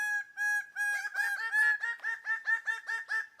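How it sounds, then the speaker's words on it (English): A bird of paradise in Papua calls in a series of loud, clear, harmonic notes, a few spaced calls at first and then a faster rhythmic run of repeated hoots, close and alone against silence. "Bird of paradise."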